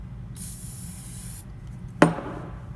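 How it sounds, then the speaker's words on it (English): Lubricant sprays from a can onto the shaft of a hollow-chisel mortiser's auger bit in one close, steady hiss of about a second, followed by a sharp knock. "sometimes it helps to put a little lubricant just on the shaft of the auger"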